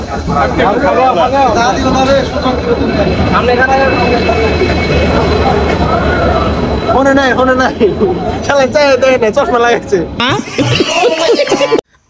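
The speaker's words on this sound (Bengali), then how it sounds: "ট্রেন কিন্তু অলরেডি আয় পড়ছে" A train arriving at Goalpara railway station, loud continuous rail rumble and clatter mixed with crowd babble, with voices talking close by nearly the whole time.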